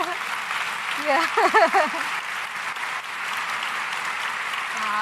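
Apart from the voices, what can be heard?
audience applause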